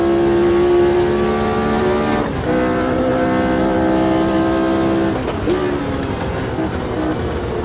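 Brabham BT26 race car from Automobilista 2 racing at Silverstone in 1969, its engine screaming loud and steady with sharp pitch drops at gear changes around the middle and near the end, no voices over it.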